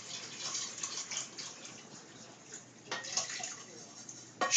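Salted, sugared brine poured over raw chicken pieces in a container, a soft steady splashing stream that surges and trickles, with a voice speaking over it.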